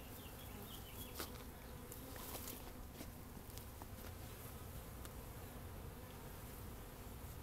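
Honey bees swarm around an opened hive during an inspection, a dense continuous buzz close by with faint ticks and handling noises.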